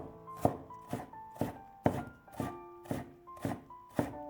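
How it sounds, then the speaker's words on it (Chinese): Half a carrot being diced finely with a kitchen knife on a board, a steady series of about nine crisp chopping thunks spaced roughly half a second apart, close but fairly quiet. "半根胡萝卜先切成薄片， 再改刀切成细丝，最后切成小碎丁"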